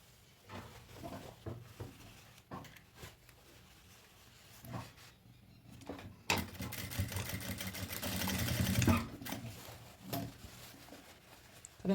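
A sewing machine stitches a seam on a child's overalls with an elastic back, with scattered soft knocks at first, then a sustained mechanical whir building for a few seconds before stopping.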